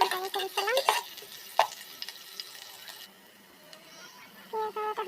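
Onions frying in oil inside a rice cooker, with a spatula scraping and stirring against the pot in short bursts, a light sizzle underneath, and a few scattered clinks and pauses.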